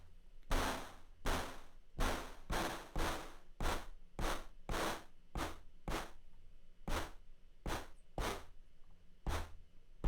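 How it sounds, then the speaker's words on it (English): An early-80s style noisy clap synthesized on an Arturia MicroFreak fires about fourteen sharp hissy bursts in an uneven rhythm, fairly quiet and alone. "So that's quite a noisy clap"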